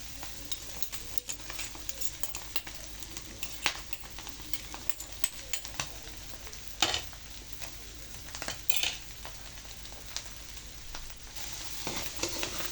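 Bopis cooking in its rendered oil, a steady close sizzle and frying hiss with scattered clinks and scrapes of a utensil stirring in the pan, no talk.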